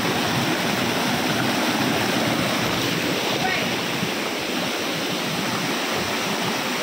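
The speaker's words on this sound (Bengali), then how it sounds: "দেখেন এখানে অনেক সুন্দর ঝর্ণা পড়তেছে" A waterfall pours among tall hills, producing a steady, dense rush of falling water that stays loud and even from start to finish.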